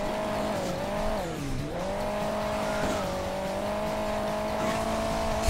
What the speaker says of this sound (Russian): Мотоцикл, друзья мои.